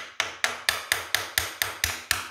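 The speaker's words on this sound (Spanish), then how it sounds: "Parece que estás martillando." Steady hammer blows on a motorcycle part during a restoration, about ten sharp metallic strikes in an even, quick rhythm, close and fairly loud with nothing else heard.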